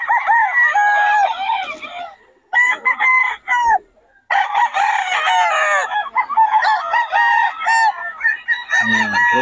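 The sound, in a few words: young roosters (stags) crowing and clucking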